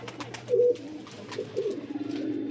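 Pigeons coo in a few soft, low throaty bursts, close by, over a steady background hum.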